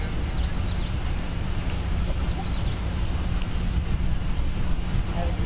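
Steady, loud wind rushes and buffets across open water during a women's collegiate varsity sculling race at SeaWorld, a constant low roar with no clear breaks.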